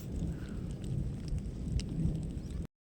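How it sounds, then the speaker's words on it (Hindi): Rain falls steadily outdoors, a soft even hiss with low rumbling wind-like noise and faint patter, no voices, stopping abruptly at the end. "तो गाइस फिर से बारिश आ चुकी थी"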